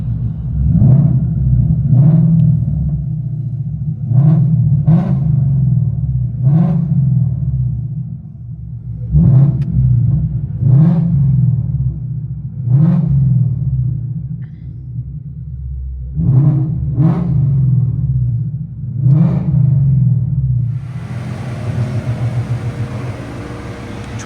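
A 2016 Ford Mustang GT 5.0 V8 with long-tube headers and Flowmaster Outlaw exhausts revs repeatedly, heard from inside the car, about nine sharp throttle blips over a deep idling rumble, ending in a hiss.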